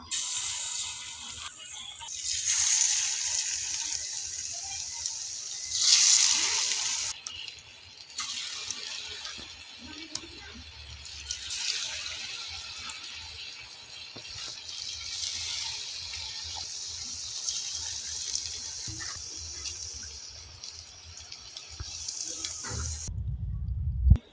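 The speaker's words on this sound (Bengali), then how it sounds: "এটা এখন গরম তেলে দিয়ে দিব এখন আমি পাকোড়াগুলো দিয়ে দিব" Marinated cabbage pakoras fry in hot oil, a continuous bright crackling hiss that swells and fades over about twenty-four seconds, with occasional clatter and a low thump at the end, no talking.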